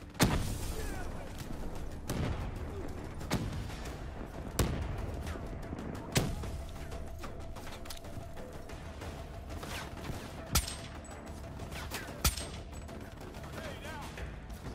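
Gunfire in Call of Duty Black Ops 3 campaign play: sharp shots every second or two over a low rumbling battle bed, with speech in the background.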